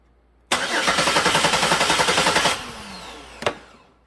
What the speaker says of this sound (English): when I jumper the starter and make the engine crank